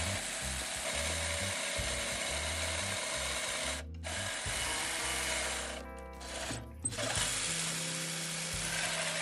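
A jigsaw fitted with a file enlarging a hole in a workpiece, giving a rapid, steady mechanical rasping buzz with brief pauses and shifts in pitch.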